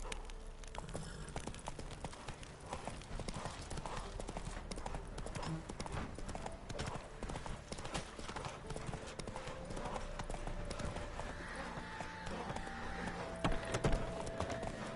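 Roach the horse galloping in The Witcher 3, a fast steady clip-clop of hooves over the whole stretch, joined by game ambience and sparse effects, with someone talking at times over it.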